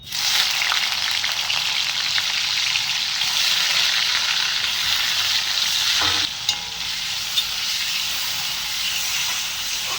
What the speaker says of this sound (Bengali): পনিরগুলোকে এবার লাল লাল করে ভেজে নেব।